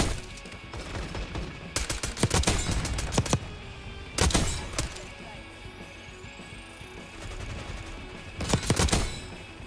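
Automatic gunfire in Black Ops 6, several sharp rapid bursts spread across the stretch, loud and close, with quieter game sounds filling the gaps between bursts.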